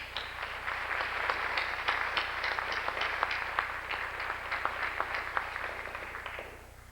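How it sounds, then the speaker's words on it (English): Steady audience applause at a university building dedication, dense clapping with distinct individual claps audible throughout, fading slightly at the end. "I want a round of applause for them."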